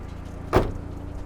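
A single solid thump of the hood of a Volkswagen Golf 5 GTI slamming shut, close and sharp, with quiet surroundings before and after.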